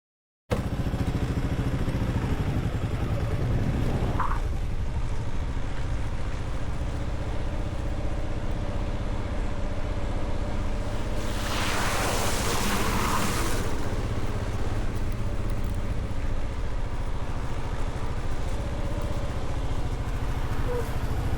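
An adventure motorcycle splashes through a water crossing on a backcountry dual-sport route, steady engine drone throughout with a loud rushing surge of spray around the middle.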